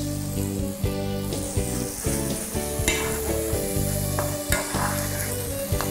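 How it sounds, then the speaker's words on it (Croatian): Butter melts in a hot pot with cooked corn gnocchi as it is stirred, a steady close sizzle with soft scraping strokes and no voices. "Promiješamo da se maslac rastopi."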